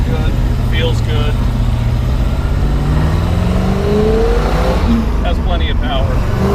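A 1968 Pontiac Firebird 400 convertible with a four-speed pulls away, its engine droning low and rising in pitch as it accelerates, with road and wind noise and a voice talking over it.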